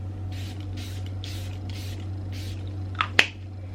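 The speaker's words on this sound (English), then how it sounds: "I kind of feel like I need to set it with another setting spray, so let's do that." Makeup setting spray misted in about five quick, soft hissing pumps at a steady rhythm, followed by two sharp, close clicks near the end over a low background hum.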